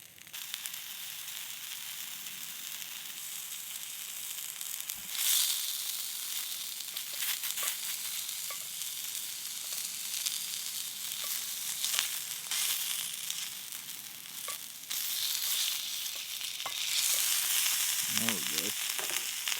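Small sausage links frying in a skillet on an outdoor rocket stove, a continuous hissing sizzle with occasional pops and crackles, growing louder near the end.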